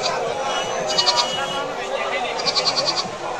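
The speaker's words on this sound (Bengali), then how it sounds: "দেখেন কত সুন্দর সুন্দর দেশি ছাগল উঠছে।" Native goats at an open-air goat market give short, repeated bleats in two brief bursts, close and clear over steady market murmur and voices.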